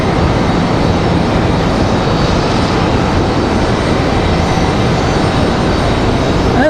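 Endeavor Air jet at Raleigh-Durham International Airport, a steady, loud, broadband engine roar that holds unbroken throughout, with no voices.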